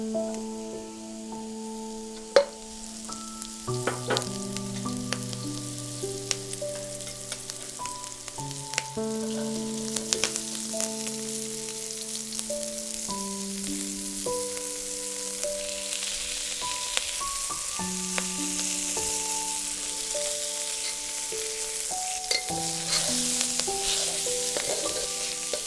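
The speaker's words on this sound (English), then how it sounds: "Push the mushrooms to the side of the pan, making room to sauté your garlic scapes." Mushrooms and garlic scapes sauté in a pan for a Thai-style vegetable stir fry, a steady soft sizzle running throughout beneath louder melodic background music.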